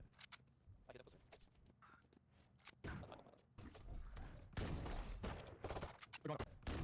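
Gunfire in a shooter game with scattered sharp shots, including a pistol, popping irregularly under a faint voice, moderately loud and close.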